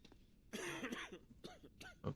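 A character in the Quarantine Zone survival game coughs in a few short, rough bursts, close and clear, with a brief throat-clearing rasp between them.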